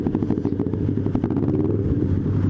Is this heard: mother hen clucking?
no